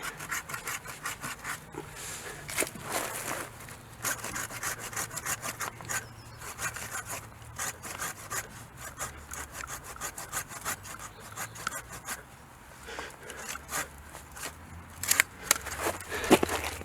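A handsaw rasps through a fused tree root in steady, quick back-and-forth strokes, close but fairly quiet, with a few louder scraping strokes near the end.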